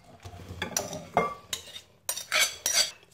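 Cut fruit for fruit chaat scooped and tipped into a bigger bowl, a string of close clattering knocks and scrapes of a spoon against bowls, with irregular gaps between bursts and no talk.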